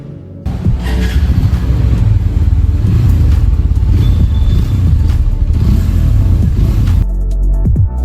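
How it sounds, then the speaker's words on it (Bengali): A Hero Thriller 160 4V motorcycle engine fires up and runs steadily with a loud, throaty rumble and some clatter, then cuts off near the end. "এবার বাইকটা স্টার্ট দিয়ে সাউন্ডটা চেক করি।"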